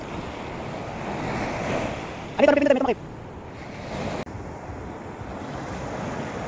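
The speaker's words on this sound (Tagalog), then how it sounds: "Ang lakas ng alon ha." Big ocean waves crash on shore in a continuous roaring surf with strong wind noise across the microphone. A voice briefly speaks over the steady wash partway through.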